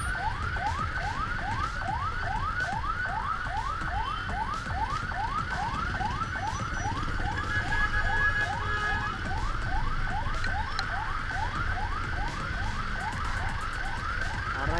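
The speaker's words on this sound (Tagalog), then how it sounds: "Pati ambulansya mga boss di makasingit oh." An ambulance siren wails continuously in a steady, repeating rise-and-fall cycle amid heavy rain traffic heading toward Quezon Avenue, loud and close over a constant low rumble of rain and idling vehicles, with no talk.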